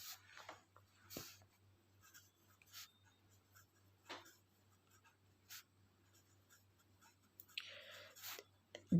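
Faint, soft strokes of writing on a board come in short scattered bursts, about seven quick scratches separated by quiet gaps against a low hum.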